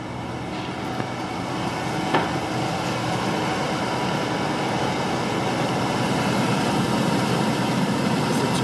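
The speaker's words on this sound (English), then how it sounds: "School bus has started up with a jump. Started with a jump. True mechanical conditions are unknown. The vehicle is currently running." The 6.0L gasoline engine of a 2012 Chevrolet Express school bus idles after a jump start, a steady, loud low rumble that runs unbroken throughout.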